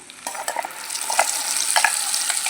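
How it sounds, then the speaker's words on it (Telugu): Steady sizzling as wet ground red chutney hits hot oil tempering, with brief clinks and scrapes of a spoon stirring in the pan. "మిక్సీ పట్టుకున్నాం కదా చట్నీ అది దీంట్లో వేస్తున్నాను"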